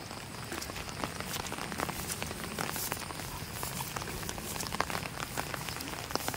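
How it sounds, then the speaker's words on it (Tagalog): Heavy rain pours down during an afternoon storm in the Philippines amid flooding, a dense, steady hiss of water with scattered close drops and splashes, continuous and fairly loud, with no voices. "hapong-hapon ay bumanat na ang ulan"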